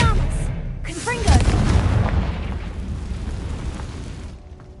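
A Confringo blasting spell in Hogwarts Legacy bursts into a loud, close explosion with a deep booming rumble that trails off over several seconds, with a brief whooshing cast just before it.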